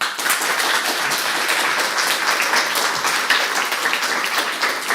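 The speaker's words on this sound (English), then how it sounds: "Give them big applause." Dense, steady applause from an audience at a Game Pitch Arena event, honouring the jury members, filling the whole moment with continuous crowd clapping and no pauses.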